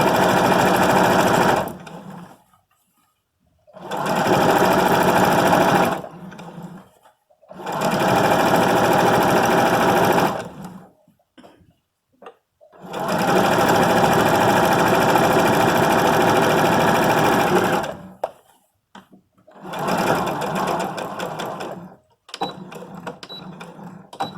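A domestic sewing machine stitches a cuff sleeve hem in five loud, steady whirring runs of several seconds each, separated by short silent pauses, with no talk over it.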